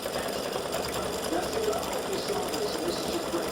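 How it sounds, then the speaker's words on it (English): An embroidery machine satin stitches free-standing lace St. Patrick's Day hat earrings in dark gray thread, giving a steady, close, rapid mechanical chatter that continues without a break while a voice speaks over it. "it's getting ready to do the satin stitching on the inside of the dark gray"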